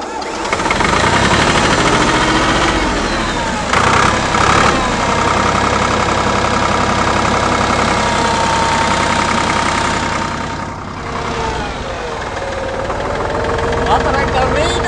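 Tractor engine idling and running steadily close by on a farm, a continuous rumbling drone with slight shifts in pitch, while people talk over it.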